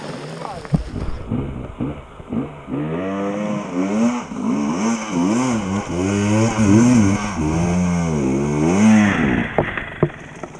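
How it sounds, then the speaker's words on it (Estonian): A Harley enduro motorcycle revs repeatedly in rising and falling surges on a rough off-road course, loud and close, with voices talking over the engine. "aga see on Harley Enduro"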